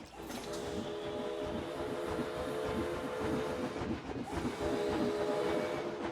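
A monorail train running in the Planet Coaster theme park game, a steady rumbling rail noise with a faint rhythmic clatter and humming tones, continuous and fairly quiet.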